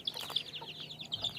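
In a village, a mother hen and her chicks make rapid, high peeping chirps and soft clucks that are faint and close, with a low steady hum running underneath.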